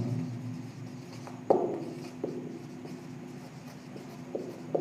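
A pen writes out the quadratic formula by hand, with soft scratching strokes and a few sharper taps on the page, close and fairly quiet, and no speech.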